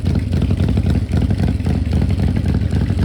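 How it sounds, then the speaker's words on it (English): Harley-Davidson Evolution motorcycle engine idling close by, a loud, steady, uneven lope of low throbbing beats with mechanical clatter, no voices. "They have a very iconic, beautiful engine lope."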